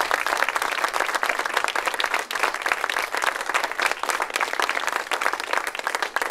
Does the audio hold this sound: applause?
yes